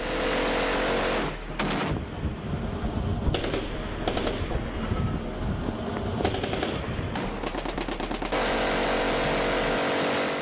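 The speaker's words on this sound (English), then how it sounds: "M4 carbines and mounted M240 machine guns barked over the water, ripping into the skiff's hull" M4 carbines and mounted M240 machine guns fire over open water at a skiff, loud sustained bursts of automatic gunfire with brief pauses between volleys, heavy and close.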